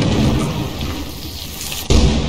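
A lightning strike in Lethal Company cracks into loud, close thunder near the end, landing abruptly on top of a steady stormy rumble.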